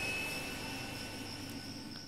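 Steady jet-like aircraft drone from Delta Force: Urban Warfare, a continuous engine roar holding at an even level with faint higher whine, without pauses or talk.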